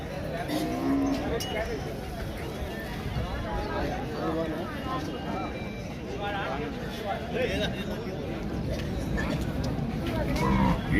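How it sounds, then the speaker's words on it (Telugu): Cows at a Saturday cattle market in Pebbair low and moo amid a busy hubbub of people talking and a crowd murmuring close by. "ఈడ కూడా 2 ఆవులు ఉన్నాయి."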